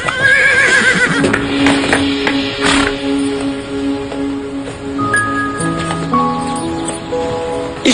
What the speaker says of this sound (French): Mais ce cheval... Il est incroyable